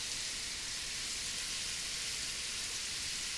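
Garlic, carrots and celery caramelizing in a cast iron pan, a steady hissing sizzle that stays even and unbroken throughout, close by with no talk.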